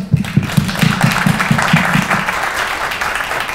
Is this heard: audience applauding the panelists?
yes